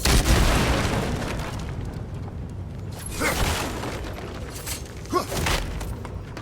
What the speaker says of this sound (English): Those barrels. I smell fuel. Bet a spark from your blades would cause quite a boom.